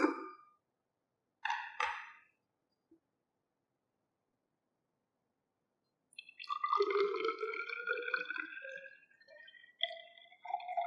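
Water from a well-mixed sample is poured into a 100 ml measuring cylinder in a lab, a brief splash and a few drips, then a gurgling pour that sweeps upward in pitch as the glass fills.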